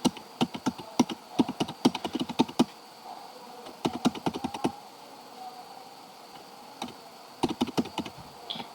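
Bursts of rapid clicky typing on a computer keyboard entering Cisco Packet Tracer commands, several quick runs of keystrokes separated by brief pauses, close and crisp with no talking.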